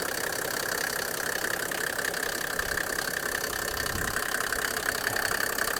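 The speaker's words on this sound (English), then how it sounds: "Your OM603 engine." A Mercedes G-Class pickup's OM603 six-cylinder turbo diesel idles with the hood open, a loud, steady, slightly knocking diesel clatter running evenly throughout with no talking.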